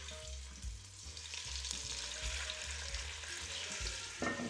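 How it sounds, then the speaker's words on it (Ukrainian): Oil crackles and sizzles steadily as ribs fry in a pan, a continuous close hiss with a few soft knocks, no voices. "олія шкварчить, викладаю реберця."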